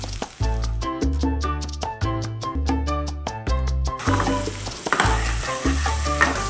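Half a spoonful of garlic hits hot oil in a pan and sizzles steadily, the frying noise growing broader and louder partway through, under rhythmic background music.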